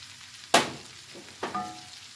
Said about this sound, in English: And we're going to stir it just because we want to distribute the fat a little bit.